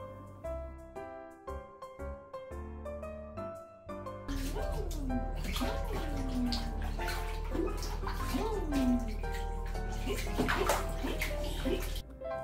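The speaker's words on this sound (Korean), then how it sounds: "이렇게 욕조에서 목욕도 시킬 수 있고 공간이 꽤나 넓기 때문에 간단히 물놀이도 가능해서 너무 좋아요" Water sloshes and splashes in a foldable Plesta newborn baby bathtub, continuous and close after an opening stretch of background music, with a voice rising over the water and music playing underneath.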